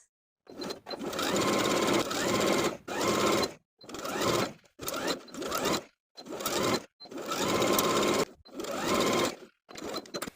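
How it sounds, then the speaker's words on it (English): A sewing machine stitches a blouse facing with a 3/8 inch seam allowance in repeated loud, close bursts of whirring, some long and some short, separated by brief silences. "I'm going to sew with a 3/8 inch seam allowance."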